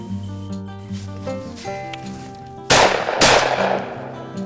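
Shotgun fired while hunting, two sharp loud blasts in quick succession cutting through sustained background music.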